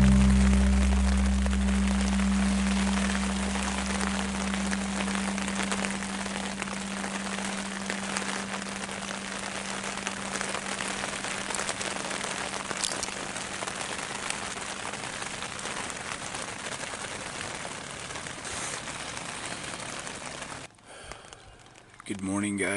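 Heavy rain pounds on a Snugpak Bunker tent at night, a dense, steady patter heard from inside over a low hum that fades early, with a brief rustle near the end.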